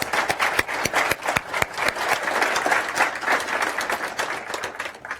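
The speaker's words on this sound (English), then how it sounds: "give a great round of applause to our panelists" Audience at a tech conference panel gives a round of applause for the panelists, a lively mix of sharp individual claps over a steady crowd wash, moderately loud throughout.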